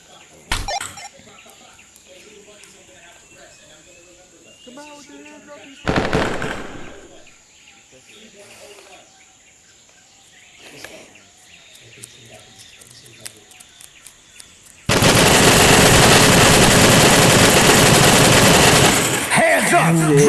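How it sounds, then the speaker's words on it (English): Machine gun fire in a first-person video game, heard through a headset at maximum volume. Scattered sharp reports and quieter sounds lead into a sustained, very loud automatic burst lasting about four seconds near the end. "I have my headset at max volume and I started off a machine gun"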